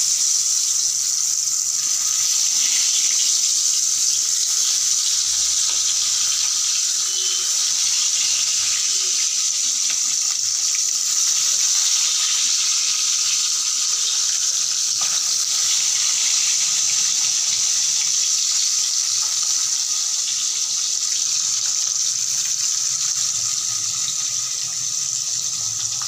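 Parshe (mullet) fish frying in hot oil in a home kitchen, a steady loud hiss and crackle running continuously without pause.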